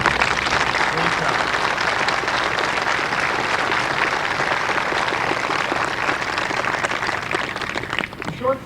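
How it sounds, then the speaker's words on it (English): An audience at a groundbreaking ceremony applauds with steady, dense clapping that holds for about eight seconds, then thins out toward the end. "I'd like to have a round of applause for them"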